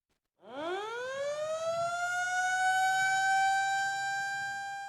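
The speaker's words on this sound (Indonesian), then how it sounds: "Penekanan tombol sirine yang dilanjutkan dengan penandatanganan prasasti oleh Presiden Joko Widodo" A ceremonial siren at a bridge inauguration in Bogor winds up from silence into a long, steady wail, holding loud and continuous for several seconds with a faint low hum beneath.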